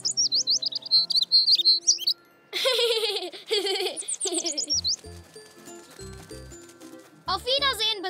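Baby bird chirping in a German cartoon: bright, repeated high chirps and tweets at the start and end, mixed with cartoon music, voices and clip-clop-like hoof effects.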